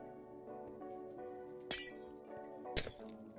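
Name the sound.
tinted glass block broken in Minecraft video game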